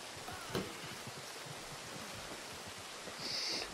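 Rain falls steadily in Red Dead Redemption 2, a soft continuous broadband hiss at a low level with no voices, a faint brief tap near the start and a higher whistling tone near the end.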